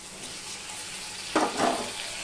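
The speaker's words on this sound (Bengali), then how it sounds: "এবারে যে টমেটো, আদা, কাঁচা লঙ্কা সেটা আমি দিয়ে দিলাম" Tomato, ginger and green chilli tipped into a pan of browned garlic in oil for a bhetki fish curry, a low sizzle that rises briefly into a louder burst of frying and stirring.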